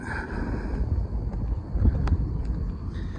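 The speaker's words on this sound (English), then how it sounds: "since it's sprinkling and windy" Steady low rumbling wind buffeting the microphone outdoors in light sprinkling rain, with gusts rising and falling and no voices.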